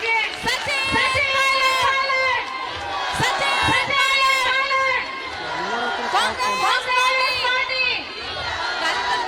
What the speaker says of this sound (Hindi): मैं चाहूंगी कि जोरदार तालियों के साथ आप स्वागत कीजिए सचिन